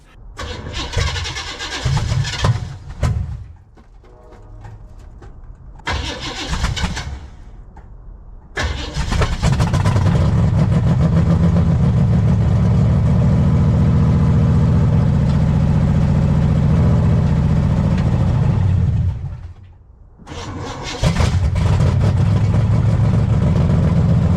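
A 1971 Chevelle with straight pipes cranks in short bursts, then fires and settles into a loud, rough idle. It shuts off briefly, then restarts and runs again close by.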